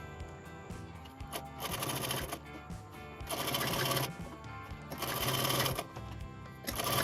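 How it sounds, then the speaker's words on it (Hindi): A sewing machine stitches the neck border of a kurti in four rapid, close-up bursts of rattling stitching, each lasting about a second, with short pauses between them and no talking. "स्टिचिंग सेंटर से स्टार्ट करके इस तरफ लेंगे और फिर दोबारा सेंटर से स्टार्ट करके"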